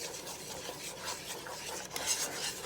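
A spoon works through a thickening candied yam mixture, producing a continuous soft, sticky stirring and scraping sound at low volume, close by and without talk.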